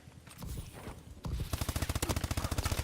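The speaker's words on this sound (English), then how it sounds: "that was the best shooting you guys have ever seen" Rapid automatic gunfire in Call of Duty: Advanced Warfare, a quick burst early then a sustained, evenly spaced stream of loud shots from about halfway through.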